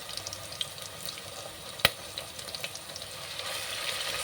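Ginger garlic paste and slit green chillies frying in a pan, a steady soft sizzle with faint crackles and one sharp clack of a utensil partway through, heard alone without talk.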